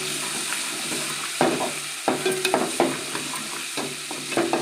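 Ginger and garlic fry in hot oil for a crab dish. A soft sizzle runs throughout, broken by sharp clatters and scrapes as a utensil stirs the pan.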